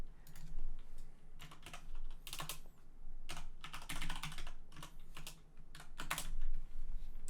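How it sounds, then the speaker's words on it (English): Rapid typing on a computer keyboard in an electrical engineering lecture on signals and systems, with bursts of close, crisp keystrokes separated by short pauses and a steady low hum underneath; no talking. "And you guys can type that in."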